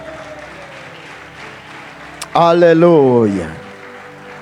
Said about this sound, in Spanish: ¿Cuántos pueden dar un fuerte aplauso al Señor en esta hora?